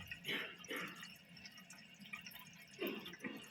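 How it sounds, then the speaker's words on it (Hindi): Concealed toilet cistern under repair refilling with water: a steady trickling and dripping wash of water, moderately faint, with a few brighter splashy surges near the start and end, no talk. "तो पानी ये भरने लग गया"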